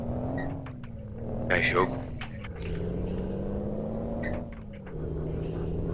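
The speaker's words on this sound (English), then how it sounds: "I'm here driving a straight 6 Scania" A Scania straight-six 440 truck engine in Euro Truck Simulator 2 drones at a steady low pitch, dipping as gears shift, while someone talks briefly over it.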